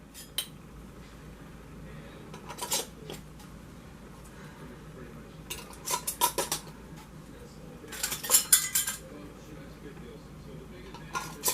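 Sure-tight lids screwed by hand onto glass canning jars sitting in a canner, giving several short bursts of metallic clinks and scraping against quiet background, with a person talking in between.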